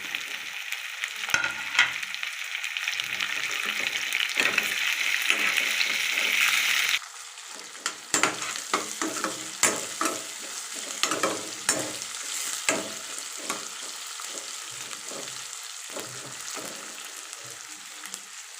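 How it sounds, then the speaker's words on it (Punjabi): Onions fry in a pan for a bottle gourd curry, giving a steady, close sizzle broken by frequent spatula stirring and scraping, with a brief drop in the hiss partway through and no voices. "ਪਿਆਜ਼ ਸਾਡਾ ਜਦੋਂ ਤੱਕ ਬਰਾਊਨ ਨਹੀਂ ਹੁੰਦਾ ਉਦੋਂ ਤੱਕ ਅਸੀਂ ਪਿਆਜ਼ ਨੂੰ ਭੁੰਨਾਂਗੇ"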